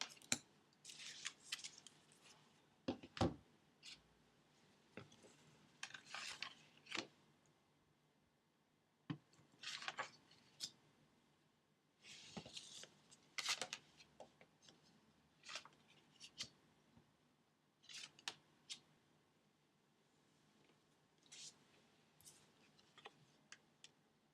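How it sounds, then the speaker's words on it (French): Tarot cards (a psychic tarot deck) are laid out one by one on a table, giving soft scattered snaps, slides and ticks with quiet pauses in between. The sounds are close but faint, and no one speaks. "je suis en train de poser le tarot psychique de John Holland"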